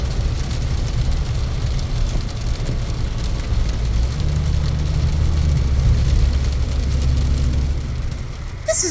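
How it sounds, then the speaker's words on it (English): Steady rain pours down, a dense constant hiss with a low rumble underneath, continuing without pause. "This is insane. It has been raining."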